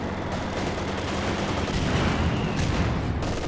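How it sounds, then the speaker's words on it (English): Battlefield fire in the World War II strategy game Company of Heroes 2, a dense, unbroken wash of gunfire and explosions with a heavier, louder thump near the middle, as from a mortar round landing. "Ooh, big hit from the mortar there."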